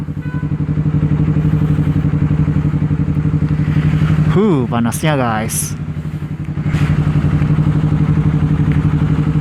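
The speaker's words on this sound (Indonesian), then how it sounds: "Karakter suara dari knalpot ini ketika mesin dinyalakan itu terkesan lebih ke berdesis, kalem" A Honda CBR250RR motorcycle with a 3Tech EVOX X3NRC aftermarket exhaust idles steadily with a low, soft hissing exhaust note, briefly interrupted by a short spoken phrase before the rumble resumes.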